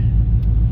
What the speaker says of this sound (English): Go away, car.